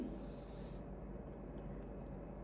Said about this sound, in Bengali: চিনিটা চায় ঢেলে নিচ্ছি